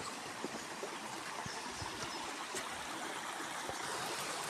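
Water trickling and dribbling steadily from a punctured container outdoors in a forest, a continuous soft splashing stream with faint scattered knocks and no talk.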